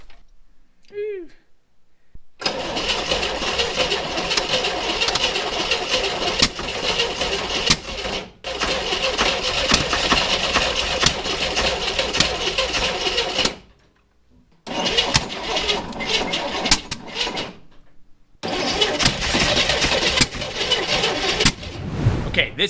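A Chevrolet Corvair that has not run in over 30 years cranks with its starter in long loud grinding bursts, stopping and restarting several times without firing, with brief quiet gaps and a person speaking between attempts.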